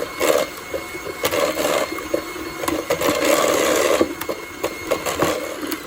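Ensaymada cupcake batter, now with canola or vegetable oil added, is being mixed in a bowl, making a near, uneven whirring and scraping with short bursts and pauses and no talk.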